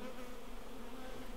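Honeybees in hives on a trailer hum in a dense, continuous buzz with a steady drone, close and moderately quiet, for a brief moment without voices.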